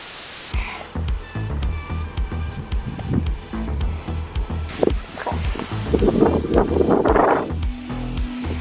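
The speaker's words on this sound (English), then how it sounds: "Wow, it's so windy." Gusty wind buffeting the microphone in loud, uneven rumbling bursts, with rustling noise rising and falling throughout.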